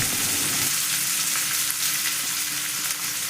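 Onion and green chili sauté in a pan, a dense continuous sizzle and crackle close by, with faint scraping of stirring underneath.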